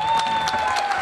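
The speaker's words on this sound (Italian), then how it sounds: "E io vorrei un grosso applauso per Enzo Fischetti." Brief audience applause at an evening comedy show, a short spell of clapping with a few louder claps and a faint steady tone underneath.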